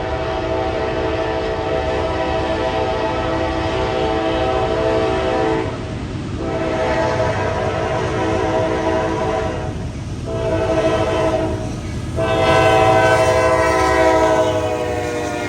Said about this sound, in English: Atlanta-bound 237, a mixed intermodal and general freight shuttle